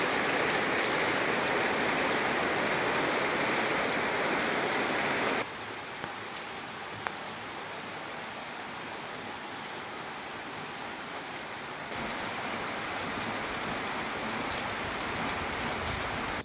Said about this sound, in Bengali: বৃষ্টির ঝমঝম শব্দ অনেক বেশি ভালো